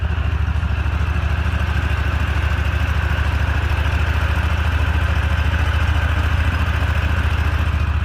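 A motorboat engine runs steadily in floodwater, a constant low, throbbing drone with a buzzing mid-range hum that holds at an even, fairly loud level throughout without pause.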